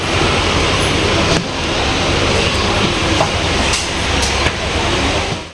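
A passenger train rolls into a railway platform, loud and close, its steady rumble and rattling wagons carrying through, with sharp clacks of wheels over rail joints.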